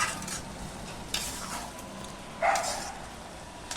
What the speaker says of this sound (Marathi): पूर्ण असं हलवत राहायचं म्हणजे खाली चिटकत नाही